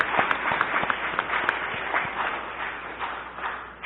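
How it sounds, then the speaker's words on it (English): A commission meeting audience gives a round of applause, a moderate, steady patter of clapping with a few distinct nearby claps, tapering slightly toward the end. "We'll give them a round of applause."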